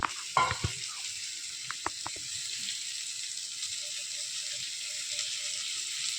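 Fish spread in a pan for lemon fish fry fries in oil with a steady soft sizzle, a few clatters of handling near the start, then an even crackle alone.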